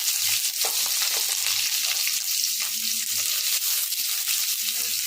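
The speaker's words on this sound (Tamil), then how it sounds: "வெங்காயம் ஆட் பண்ணிவிட்டு நல்லா வதக்கி விடுங்க." Onions sautéing in hot oil with curry leaves for a village-style brinjal stir-fry, a steady close sizzle and crackle with occasional stirring scrapes throughout, no voices.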